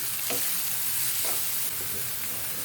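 Finely chopped onions and curry leaves frying in a pan for a chicken curry, giving a constant close crackling sizzle with a few faint stirring scrapes.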